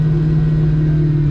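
A Whipple supercharged Cobra engine idles abnormally high, giving a steady, loud, close drone with a strong, constant tone and no variation over a brief moment, with no talk.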